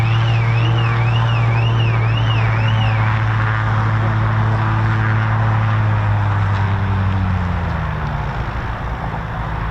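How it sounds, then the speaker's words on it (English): A car alarm whoops in a rising-falling warble, triggered by a low-passing Piper Navajo CXL at RAF Waddington whose engines drone loudly underneath, the alarm cycling for a few seconds then fading while the steady aircraft roar continues. "she's just set car alarms off"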